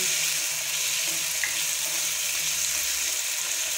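Potatoes for aloo bhujia frying in hot oil over a high flame, a loud steady hiss and crackle without pause.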